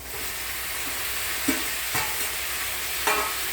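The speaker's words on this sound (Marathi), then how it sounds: "आता त्याच्यामध्ये मी हा शिजवलेला पास्ता आणून घेते" Cooked pasta is stirred in a frying pan over steady sizzling, with three or four distinct scraping strokes of a spoon against the pan, close and moderately loud.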